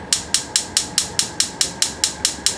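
A gas stove burner knob in a 2023 Salem Grand Villa 42DL RV is turned to light, setting off a fast, even run of about a dozen sharp igniter clicks, close and loud.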